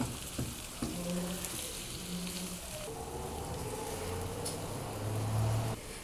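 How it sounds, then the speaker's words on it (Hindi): Chicken and vegetable pizza topping, seasoned with salt and red chili, sautés in a pan over low heat. A continuous hiss runs throughout, with low humming tones underneath and no talking. "अब मैं इसे हल्की आंच पर सौते कर लूँगी।"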